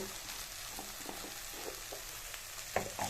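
Food frying in a pan at a gentle, low sizzle, with soft stirring clicks and scrapes scattered throughout and a slightly louder clatter near the end, no one talking.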